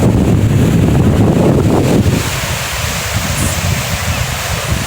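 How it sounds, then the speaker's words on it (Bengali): Loud surf at Digha beach rushes in a continuous wash with wind noise on the microphone, the roar of a breaking wave easing slightly after a couple of seconds, with no voices. "দেখেছো কিরকম ঢেউ আসছে"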